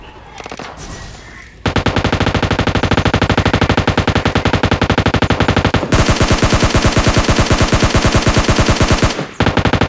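Loud, sustained automatic gunfire in a PUBG-style shooter game rattles in rapid bursts with a brief pause midway, then resumes even faster, all close and continuous.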